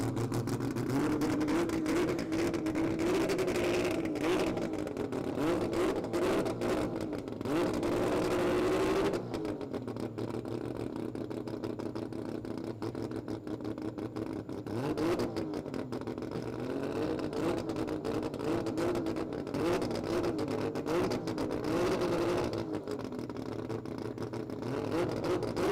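Race car engine at the Garrett Brisbane Jamboree 2026 revving hard and continuously, with rising and falling pitch sweeps over a steady roar; loud and close for the whole stretch, a brief dip partway through before the revving resumes, no talk.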